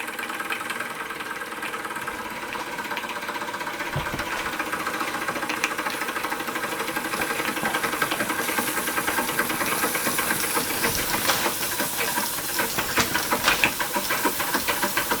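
Stirlingkit Retrol SE-02 model steam engine runs steadily, a continuous hiss of steam over a rapid mechanical chuffing and knocking rhythm, close and fairly loud, growing slightly busier toward the end.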